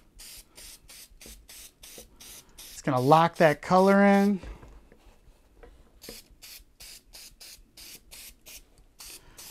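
Two bursts of hissing aerosol protector spray on suede Nike Air Max sneakers, the second longer, with a person talking before and after over faint rhythmic background taps.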